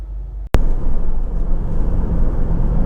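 A Honda CR-V 2.2 i-DTEC EX 4x4 automatic diesel on a road test: after a brief hush and a sharp click, a steady, close cabin rumble of engine and road noise runs on without talk.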